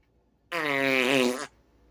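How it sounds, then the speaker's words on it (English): A single sustained buzzing fart sound lasting about a second, loud and tonal with a rich, slightly wavering pitch, standing alone against near silence. "Sorry about that fart sound."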